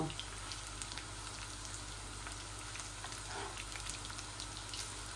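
Tilapia fish kebab pieces coated in rice flour fry in oil, giving a steady, faint, even sizzle with soft crackles that continue throughout.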